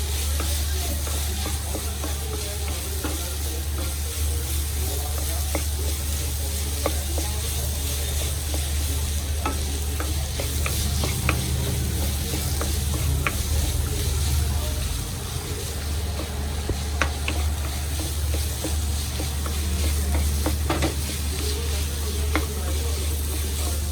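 Beetroot and chopped dates cook over a low flame in a pan for a pickle, giving a steady, close sizzle and hiss with occasional stirring clicks throughout.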